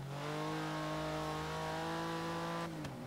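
A Porsche sports car engine in Forza Horizon 3 holds a steady, loud drone for nearly three seconds before the pitch drops off sharply, with no talk over it.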